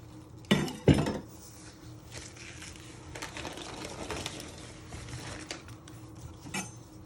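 A knife chops the end off a head of pak choi on a cutting board while prepping Thai green curry: two sharp, close knocks in quick succession, then quiet kitchen room tone.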